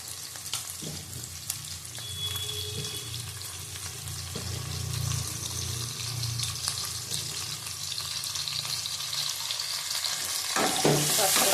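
Onions frying in hot oil with a steady, close sizzle and occasional stirring clinks, the hiss growing slightly louder toward the end.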